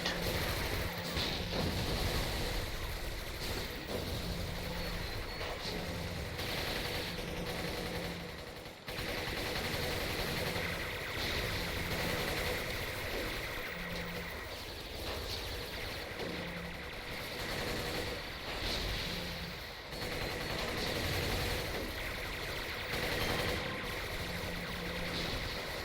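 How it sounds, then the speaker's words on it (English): Acid mortars fire during a City of Heroes battle alongside a Mercenaries/Traps character, producing a constant loud wash of combat noise. Repeated thumping bursts and mechanical clatter run throughout. "Those stupid acid mortars."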